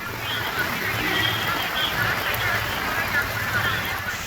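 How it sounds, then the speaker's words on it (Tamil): Heavy rain pours suddenly under dark clouds around Melmalaiyanur in Villupuram district, Tamil Nadu, a dense, steady hiss of downpour that continues without a break. "வானம் கருமேகம் சூழ்ந்து இருண்ட நிலையில் திடீரென கனமழை பெய்ததால்"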